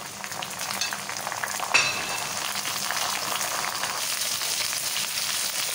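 Onions and tomatoes with added spices frying in a pan for Lahori chana, a steady close sizzle with a brief clatter of stirring partway through.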